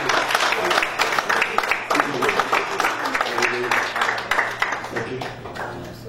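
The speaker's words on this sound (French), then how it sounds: "On peut applaudir le Seigneur." A church congregation breaks into sustained applause, many hands clapping densely together at moderate distance, while a voice talks over it.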